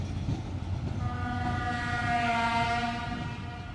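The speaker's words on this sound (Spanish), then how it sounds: "Por favor, que alguien arregle esa bocina." A loud horn on a Geco 1500 diesel locomotive of Feve blares in a long sustained blast over rumbling rail noise, its harsh tone slightly wavering and off-key, as if faulty.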